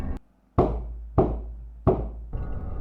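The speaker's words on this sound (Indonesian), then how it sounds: "tiba-tiba terdengar 3 ketukan" Three loud, evenly spaced knocks on a door ring out close by, each with a short decay. A dull thump comes before them and a softer noise follows.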